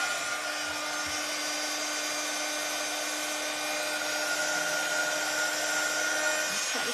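A heat tool warming puff paint on a stamped craft card, a steady whooshing blower hum with a faint tonal whine, continuous and even throughout.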